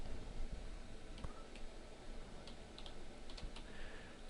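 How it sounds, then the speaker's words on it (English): Computer keyboard typing while setting a text style in website design software, a few soft, sparse keystrokes close by against steady faint room hiss. "I'll type line height."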